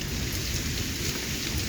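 Rain falls steadily outdoors on a Thai countryside day, a dense, continuous wash of drops hitting surfaces with low rumbling underneath, with no voices over it.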